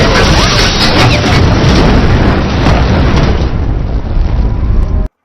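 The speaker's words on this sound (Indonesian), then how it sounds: "mobil Anders pun meledak akibat bom yang diletakkan pria misterius" A loud, sustained car bomb explosion roar fills the clip with dense rumbling debris noise, fading slightly before cutting off abruptly.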